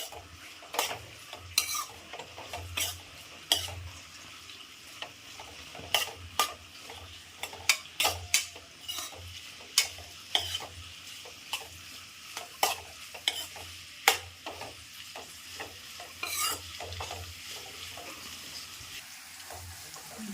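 Chopped onions sauté in hot oil in a pan for a chicken curry, a soft steady sizzle broken by repeated sharp scraping stirs from a spoon against the pan, fairly close and with no talking.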